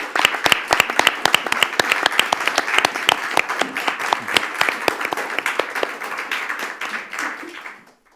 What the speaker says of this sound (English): Should we give some applause for that?